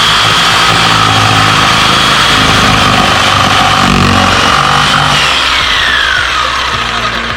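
A power saw cuts through wood to shape a push stick, a loud, steady, buzzing roar that runs almost unbroken for the whole stretch and tapers slightly near the end.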